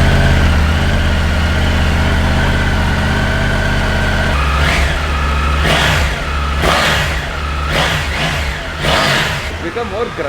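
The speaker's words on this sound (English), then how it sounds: "let's listen to the exhaust note of the GT" A Triumph Tiger GT motorcycle idling with a low, steady exhaust burble, then several sharp throttle blips rising and falling close by, with a person talking over it.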